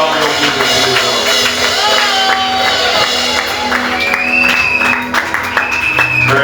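Church congregation applauding and cheering during a worship service, a steady wash of clapping and crowd noise with shouts and whoops, loud and continuous throughout.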